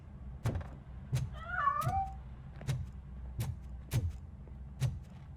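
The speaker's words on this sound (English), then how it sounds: "That cat must be hiding inside." A cat meows once in the Robocop Rogue City video game, a brief mid-pitched cry between regular heavy thudding footsteps, fairly quiet.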